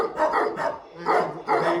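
Dog barking at an animal sanctuary in Malta: three quick, fairly close barks in a row, loud and clear with no talk over them.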